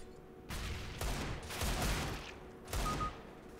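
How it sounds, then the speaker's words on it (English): Rapid bursts of automatic gunfire fired through a wall in Counter-Strike: Global Offensive, three sustained volleys separated by short pauses, moderately loud. "I'm gonna go ahead and fire through this wall."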